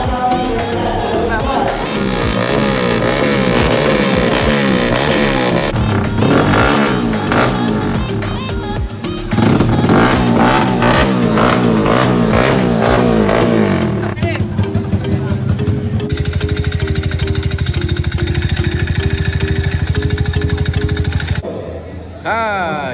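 A street cup style motorcycle with big original tyres revs loudly at a festival, its engine roaring and pulsing for about twenty seconds amid crowd noise and nearby voices.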